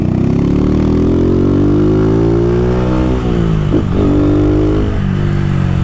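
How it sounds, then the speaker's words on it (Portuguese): A modified Honda Fan motorcycle with a filtered exhaust revs loud and close, its engine note climbing steadily, dipping briefly, then rising again in a continuous throaty drone. "É o escape, rapaziada. É o escape, viu?"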